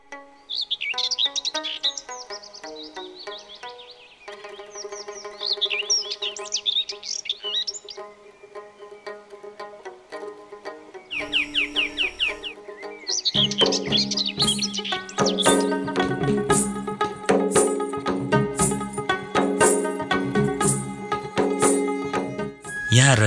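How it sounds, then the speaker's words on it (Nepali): Various birds sing around Ramaroshan's Jigale lake in a rural Nepali setting: bright chirps, trills and warbling phrases close by, at first sparse and then a denser, busier chorus, with no one talking. "मनै हर्ने चराचुरुङ्गीहरूको आवाज"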